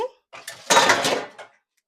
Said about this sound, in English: Give these a little stir.